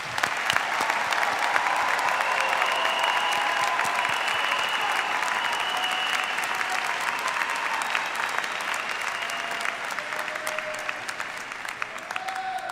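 An audience at a university commencement applauds the graduates in a sustained, dense round of clapping that holds steady for the whole stretch, with faint crowd murmur underneath.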